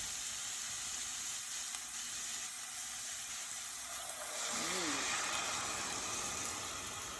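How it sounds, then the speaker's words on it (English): Wine poured into a hot pan for braised lamb shoulder chops gives a steady, close hiss that swells into a fuller sizzle and simmer halfway through. No talking. "When I pour that wine into it, that will help loosen up that nice, good flavor that I have down there at the bottom."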